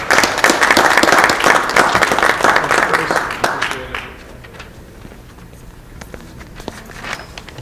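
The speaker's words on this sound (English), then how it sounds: "let's give a round of applause for Reuben Rainey" An audience at a spring architecture lecture applauds. Dense, loud clapping fills the first half, then thins and fades to scattered claps and shuffling footsteps.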